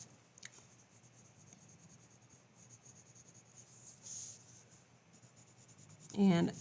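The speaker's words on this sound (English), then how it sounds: "when you're shading a sphere, use a circular pattern when you're shading" A graphite pencil shades a sphere on paper in a circular pattern, giving a faint, steady, soft scratching that runs throughout, with a brief louder rustle near the end.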